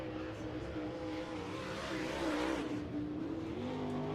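Dirt late model race cars lap Farmer City Raceway, their engines droning and rising in pitch as they accelerate, heard at a distance under a steady crowd-and-track ambience.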